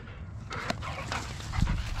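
Dogs in an open field give short whimpers and a few yips amid panting, mid-distance and moderately loud over faint outdoor background, with no talking.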